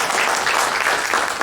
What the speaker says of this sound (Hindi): तो सिन्हा जी का विशेष तालियां